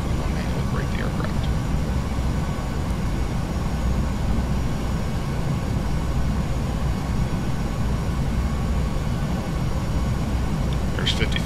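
A PMDG 737 NGX in a flight simulator touches down on runway 8 at Albuquerque after an ILS approach with thrust reversers deployed, giving a steady, loud broadband engine roar that holds evenly throughout.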